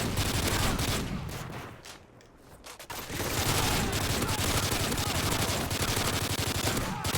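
Rapid-fire gunfire from an LH6-style weapon fitted with a rapid fire attachment in Modern Warfare 3 survival mode on the Bakaara map, loud continuous bursts with a brief pause midway, then sustained shooting resumes.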